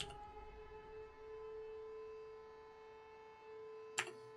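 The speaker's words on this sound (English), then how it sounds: "Oh my god, have you heard those sirens?" A steady, droning civil-defense siren in the video game Frostpunk 2 holds a sustained tone with faint harmonics. It plays quietly and distantly for several seconds, with a brief sharp knock near the end.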